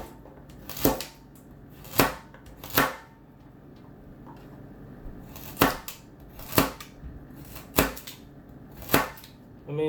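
A knife chopping carrots into rings for chicken noodle soup, about seven crisp, separate chops landing at uneven intervals, close and clear with no talk.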